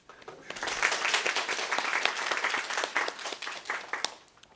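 Applause from a high school graduation ceremony audience, a dense wash of clapping that swells quickly and holds steady for several seconds before tapering off.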